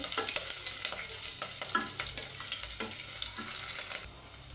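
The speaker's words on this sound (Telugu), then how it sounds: "ఇదిగోండి పచ్చిమిరపకాయ ముక్కలండి వేగాలండి." Green chili pieces frying in a pan, a close crackling sizzle with repeated scraping stirs throughout, tapering slightly at the end.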